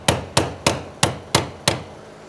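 Six evenly spaced, sharp hammer taps strike the locking retainer tab while a 2003-2008 Toyota Corolla fuel pump is being replaced, each crisp and close with a short ring.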